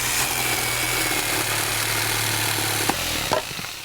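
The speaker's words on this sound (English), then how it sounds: "I'm going to show you how to use a jigsaw so you can cut the wood for the shelves that we're making" Electric jigsaw cutting scrap wood, a steady buzzing motor drone with a rapid sawing rasp running close and continuous, ending with a couple of small knocks as the cut finishes.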